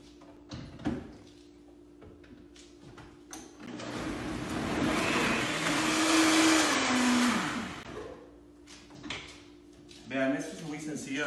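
A kitchen blender grinds green salsa of garlic, cilantro, white onion and salt, a steady loud whirring run of several seconds between clunks and short spoken bits before and after.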